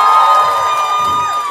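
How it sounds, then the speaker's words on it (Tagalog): An audience at a live hosted event lets out loud cheers and whoops, with strong sustained shouted voices and only light clapping, a brief burst. "parinig po ng palakpakan na may kasamang hiyawan!"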